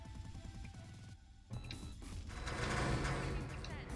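Gunfire in the video game Drunken Robot Pornography, a dense, continuous barrage of shots and mechanical game effects that swells toward the end, fairly quiet, with no one speaking.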